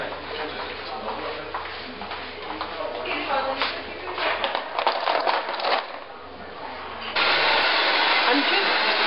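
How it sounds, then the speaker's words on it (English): A hair dryer runs steadily while a paddle brush smooths hair during a blow-dry, its broadband airflow hiss close and continuous, with brief brushing shuffles and a louder, brighter blast near the end. "I'm just finishing off my blow dry with the paddle brush and the smoothing technique."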